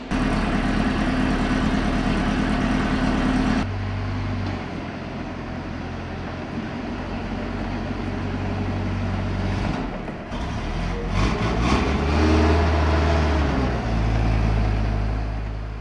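An AMX 13 light tank's engine drones loudly and steadily while the tank drives, with the pitch shifting as it works through the gears and a heavier revving surge toward the end. No one speaks.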